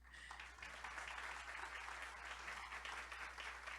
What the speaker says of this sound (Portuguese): Uma salva de palmas aqui para você